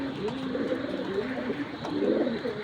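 Young racing pigeons coo close by in soft, repeated, rolling calls that overlap one another over a light background hiss.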